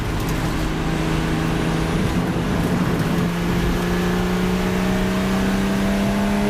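The turbocharged engine of a Porsche 935K race car drones loudly and continuously, its pitch climbing steadily as it revs, heard close with no talking.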